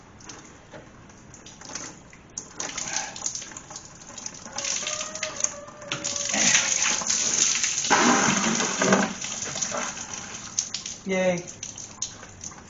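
Fluid from a 1973-74 Plymouth Satellite radiator pours and splashes into a bucket, a steady watery rush that swells in the middle and fades, with a voice cheering once near the end.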